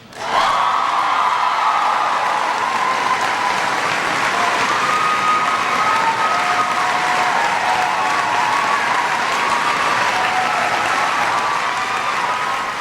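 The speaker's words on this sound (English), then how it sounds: "It was hysterical applause." Loud, sustained applause from a large crowd, continuous clapping that fills the whole stretch without letting up.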